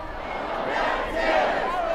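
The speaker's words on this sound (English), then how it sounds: "Echoing the chants. Such a big crowd." A large crowd at a peaceful demonstration on King Street in Alexandria, Virginia chants in unison, a loud, dense roar of many voices echoing along the street and rising in strength.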